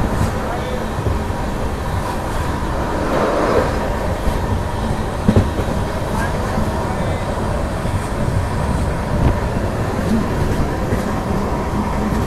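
A crowded Paschim Express general coach rumbles along continuously, with a dense clatter of wheels on rails and a faint chatter of voices mixed into the steady roar.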